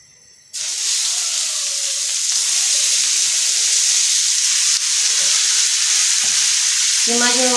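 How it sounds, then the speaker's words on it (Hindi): Minced keema meat hits hot cooking oil on a tawa with a sudden loud sizzle that holds steady and close, with stirring and bubbling continuing throughout and no talking. "जी, ऑयल हमारा गर्म हो चुका है। अब हम इसमें कीमा शामिल करेंगे।"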